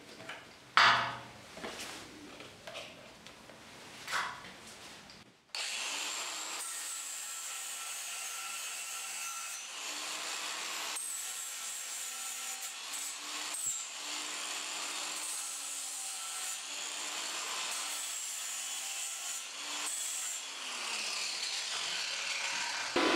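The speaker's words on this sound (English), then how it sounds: "we're going to use a cordless angle grinder with a flap disc" A cordless angle grinder fitted with a flap disc grinds paint off metal in a long, steady, abrasive whine after a few clanks and knocks of handling at the start.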